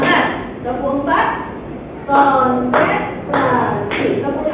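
A classroom of students performs a rhythmic clapping chant led by a teacher, bursts of claps grouped in short patterns alternating with chanted voices.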